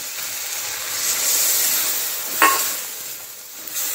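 Mustard paste washing water poured into a hot pan of seasoned ingredients for a shrimp and pennywort curry, giving a broad steady hiss and sizzle with a brief sharp clink midway, close by with no talking.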